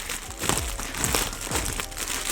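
A plastic package holding an unboxed cosplay is torn and crinkled open, giving loud, continuous close-up rustling and crackling.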